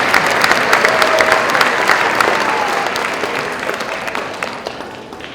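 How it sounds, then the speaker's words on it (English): Audience at an elementary school concert applauding a choir of third, fourth and fifth graders, steady broad clapping from a crowd that holds for several seconds and tapers slightly. "So please give them a nice big round of applause."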